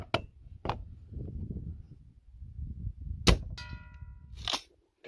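Sharp shots from a break-barrel air rifle firing .22 caliber slugs, two crisp cracks at the start followed by a louder shot with a ringing impact, then another later crack, over a low steady background rumble.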